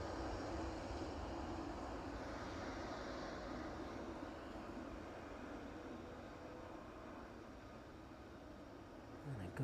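An aircraft climbs away from runway 27 at East Midlands Airport in the evening, its engine roar a broad, steady rumble that slowly thins as it moves off, with a faint voice beneath it.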